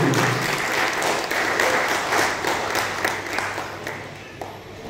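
An audience at an award ceremony during a folk song programme claps together in loud, sustained applause that swells and then gradually thins out toward the end.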